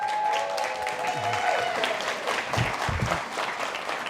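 An audience at a guide dog graduation ceremony applauds puppy raisers, a broad wash of clapping heard at moderate distance and sustained throughout, with a few faint voices mixed underneath.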